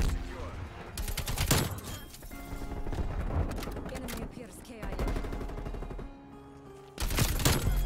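Loud AK-47 rifle bursts in Call of Duty Cold War, several rapid automatic volleys separated by short pauses, with game effects and movement between them.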